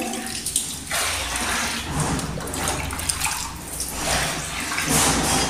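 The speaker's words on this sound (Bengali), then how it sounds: "ছেলের জল রেডি করছি, স্নানের জল। ছেলে ছাদে খেলছে, হয়ে গেছে একটু ঠান্ডা জল মিশিয়ে" Water runs and splashes steadily close by as cold water is mixed into hot water to prepare a child's bath, the flow continuous for several seconds with no speech.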